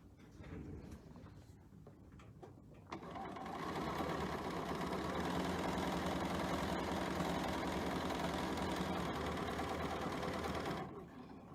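A sewing machine stitches fabric for a cat's cradle tool, starting up after a quiet moment with a sharp onset, then running in a fast, even mechanical whir for about eight seconds before stopping abruptly.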